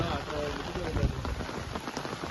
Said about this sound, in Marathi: रात्रीपासून पाऊस चालू आहे काल संध्याकाळपासून